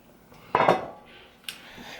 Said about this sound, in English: this is also another skillet, which is very good